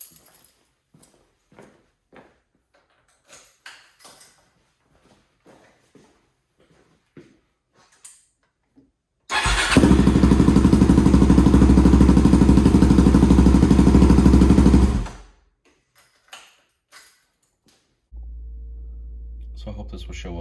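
Suzuki DRZ400SM motorcycle engine starting and running loudly for about six seconds after a fresh spark plug install, then cutting off abruptly, with sparse clicks and handling noises before and a steady low hum afterward.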